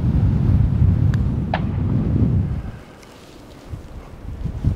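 Outdoor wind buffets the microphone with a loud, low rumbling roar that eases for a moment midway, then gusts back up.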